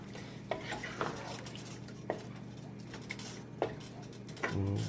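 Cherry wood bacon goes back into a pot of potato, shrimp and bacon chowder and is stirred, with several light clinks of a utensil against the pot and a soft sizzle at the end.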